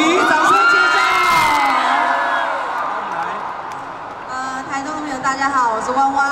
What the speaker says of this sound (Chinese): 博奇，掌声介绍。